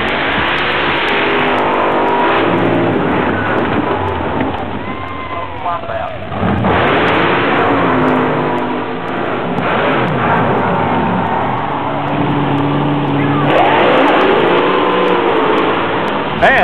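Mud racing cars rev loudly and steadily at the Indiana State Fairgrounds, their engines surging and roaring close by for the whole stretch, with someone talking over the engine noise.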